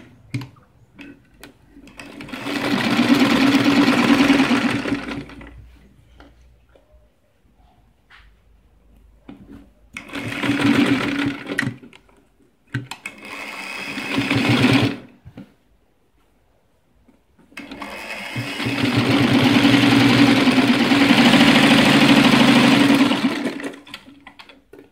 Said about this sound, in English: And then sew.